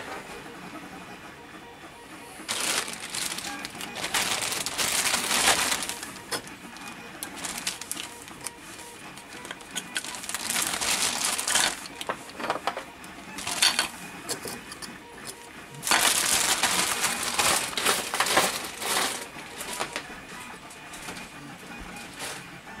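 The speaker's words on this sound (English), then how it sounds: "There's 4 of them, so that's what the printer's doing at the moment." A 3D printer prints a set of four pool jet nozzles, its motors giving bursts of whirring and hissing that rise and fall in several long stretches, fairly close and steady with no voices.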